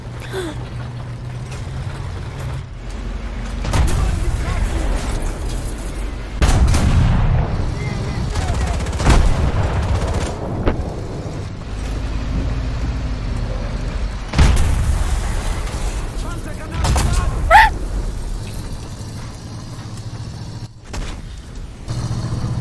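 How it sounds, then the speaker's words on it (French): Cannon fire from a small tank in the War Thunder video game: several sharp booming shots at uneven intervals over a steady engine rumble, loud and close, with a voice talking between the shots. "Regardez, c'est tiré pile au petit canon."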